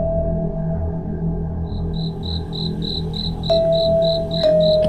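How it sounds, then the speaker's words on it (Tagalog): Crickets chirp at night in a rural setting, a steady train of bright, evenly spaced pulses over low background noise, fairly close and continuous, with no voices. "tanging kuliglig at hampas ng hangin lang ang maririnig"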